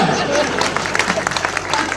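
An audience at a Hindi comedy poetry show in Gonda claps in a dense, steady patter of applause, moderately loud, while a performer keeps talking over it.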